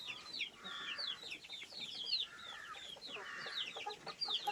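Several chickens, including quail and fancy breeds, cluck softly and continuously, their overlapping calls repeating at a moderate distance with no speech.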